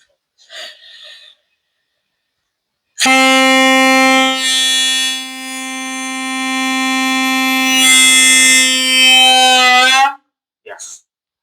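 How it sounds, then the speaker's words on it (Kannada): One long, loud blast from a homemade pipe train horn, a steady buzzing tone lasting around seven seconds, with short bursts of noise before and after. "ಕಡಿಮೆ ವ್ಯಾಸದ ಪೈಪ್ಲಿಂದಲೂ ಸಹಿತ ಈ ಟ್ರೈನ್ ಹಾರ್ನ್ ಅನ್ನ ತಯಾರಿಸಿಕೊಂಡಿದ್ದೇನೆ"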